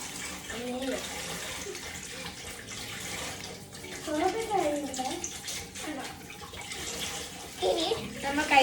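Hands washed under a running kitchen tap while cooking egg bajji: a steady splashing stream throughout, swelling louder at moments, with voices speaking over it.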